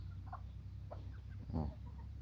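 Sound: hybrid jungle fowl gamecock clucking

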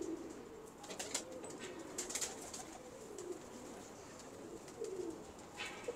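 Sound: pigeons cooing

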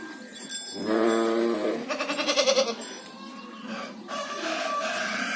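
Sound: young goats bleating on a farm

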